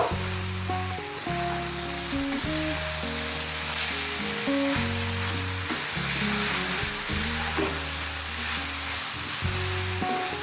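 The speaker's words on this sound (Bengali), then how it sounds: "গ্যাসের ফ্লেমটা হাই রেখে সবজিগুলোকে ভালো করে মিশিয়ে নিতে হবে।" Vegetables and spring onion stir-frying in a pan over a high gas flame give a steady, close sizzle with scraping stirs, partly masked by louder tonal music throughout.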